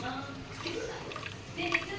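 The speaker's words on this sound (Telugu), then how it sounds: "వాటర్ అయితే బాయిల్డ్ అవుతున్నాయి" Water boils in a cooking pot on a stove during chicken biryani preparation, giving a faint, continuous bubbling hiss with occasional soft pops.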